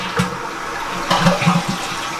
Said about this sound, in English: I'm gonna give it another flush just so we can see it move out a little bit more.